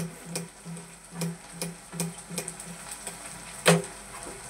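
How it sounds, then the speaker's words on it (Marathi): Onion frying in a pan for Indian-style masala macaroni: a steady close sizzle with a few stirring clicks and knocks of a utensil on the pan, and one sharper clack near the end. "आता कांदा थोडा गोल्डन ब्राऊन होईपर्यंत आपल्याला ठेवायचा आहे."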